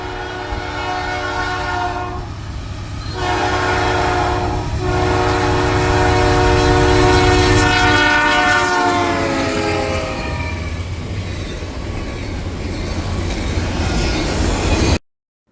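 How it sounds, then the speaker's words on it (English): A Norfolk Southern freight train, NS 286 led by locomotive NS 4822, passes near Decatur, Alabama, blowing long loud horn blasts with short gaps over a steady rumble of rolling wheels, close and continuous. "I would make a short chase of NS 286, which would have NS 4822, Norfolk Southern's Employee Appreciation Unit, leading the way west of Decatur"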